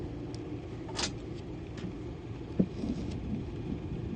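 Low rumbling thunder during a thunderstorm with steady rain, a brief crack-like burst near the start and a soft thump later, with passing car noise mixed in the background; no talking.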